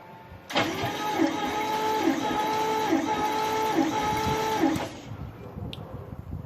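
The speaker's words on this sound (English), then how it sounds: "So I'll crank the engine over. It'll be about 4 compression strokes." The starter cranks the engine of a 1955 Cadillac Coupe Deville during a compression test. It whirs loudly and close for about four seconds, and a regular rhythmic pulse marks each compression stroke before it cuts off abruptly.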